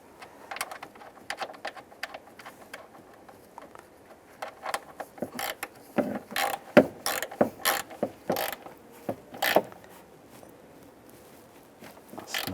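A ratchet tightens a nut on a ground wire while a heater core is replaced on a 2007-2013 Chevy Silverado; bursts of quick mechanical clicks come in short runs, close and moderately loud, with no talking.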